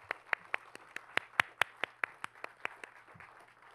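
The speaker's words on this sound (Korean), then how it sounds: "자, 그분들께도 우리 지금까지 너무 잘 들었다고 한번 감사의 박수 뜨겁게 보내볼까요?" An audience at a conference session on social innovation claps in thanks. The claps are faint and sparse, coming as a steady run of about fifteen distinct hand claps in a quiet room.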